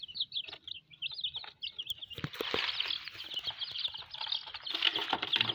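Rainbow chickens cluck and chatter nearby, with overlapping calls, scratchy rustling and brief flutters, busy and irregular throughout.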